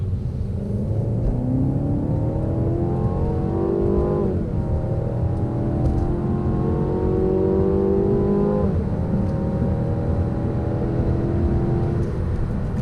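A 2017 Mercedes C200 Coupe accelerating hard from 30 to 70 mph, its engine note rising in pitch through the gears with two clear upshift dips, heard from inside the cabin with no talk.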